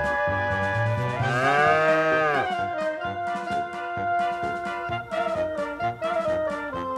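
A cow gives one long, loud, low moo that bends downward at the end, followed by further tonal sounds.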